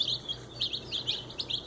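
Red Rock hybrid chicks peeping close by, a quick run of high, bright chirps repeating about every quarter second over a quiet background.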